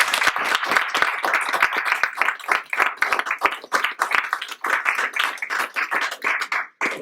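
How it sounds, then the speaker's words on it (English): A crowd applauds enthusiastically, dense overlapping claps sustained for several seconds before tapering briefly near the end. "can you please join me in giving a very enthusiastic round of applause to all of the student"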